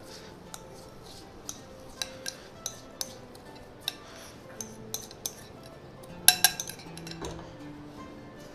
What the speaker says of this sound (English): I am going to add all my bundis in.